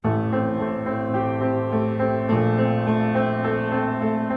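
Piano chords ring out, sustained and overlapping, shifting harmony partway through, played steadily at moderate volume without voices.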